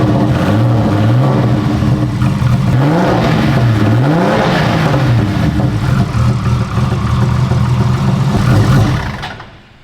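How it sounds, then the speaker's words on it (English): A Nissan RB engine revs hard with a choppy, lumpy V8-like idle note, rising and falling through several throttle blips, loud and close throughout before fading at the end. "I've never heard that much chop from an RB"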